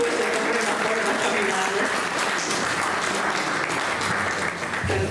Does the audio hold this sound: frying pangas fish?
no